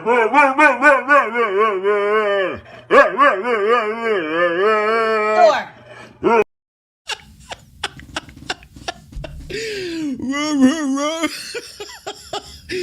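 A pet dog howls and yowls in long, wavering, voice-like bursts, loud and close, then gives sharp barks and broken whines after a brief pause.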